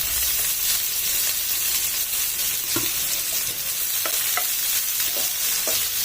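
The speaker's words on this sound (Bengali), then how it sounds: "তেল গরম হয়ে গেছে। এরপর আমি যে পেঁয়াজগুলি কেটে রেখেছিলাম সেই পেঁয়াজগুলি এর মধ্যে দিয়ে" Chopped onions sizzle and crackle steadily in hot oil in a pan on a medium gas flame, a dense continuous frying hiss with occasional stirring clinks, close and loud with no voices.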